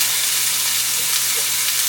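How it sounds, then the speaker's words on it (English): Chicken pieces spritzed with avocado oil cook in an air fryer, heard as a close, steady hiss with a faint low hum underneath, unchanging for about two seconds with no talking. "I'm going to throw them in the air fryer, and I'll spritz a little bit of avocado oil on those and then fry them up"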